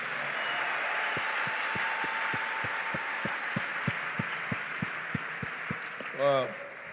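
A church congregation applauding in praise, broad continuous clapping and cheering from a crowd, with a steady rhythmic drum or bass thump pulsing underneath and a brief sharper burst near the end.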